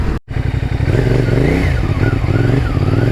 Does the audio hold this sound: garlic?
no